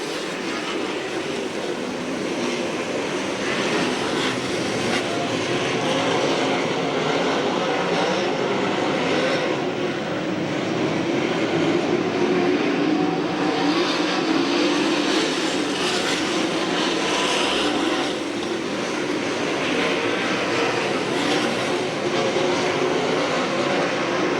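USAC/CRA sprint cars racing on a track at Santa Maria, California, a dense, continuous roar of engines that stays loud throughout, with engines rising and falling as cars pass in a pack.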